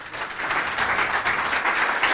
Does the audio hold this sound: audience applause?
yes